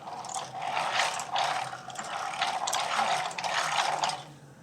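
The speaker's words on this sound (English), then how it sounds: "I'm going to push this out so you can crank it by hand" A hand-cranked 3D-printed engine model kit, printed on a Bambu X1C and styled after a Harley motor, turns with a quiet, steady ratcheting clatter of plastic gears, cycling in regular pulses close by.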